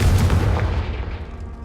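The Confringo fire spell in Hogwarts Legacy goes off as a single heavy blast that booms at once and fades over about a second, loud and close with no voices.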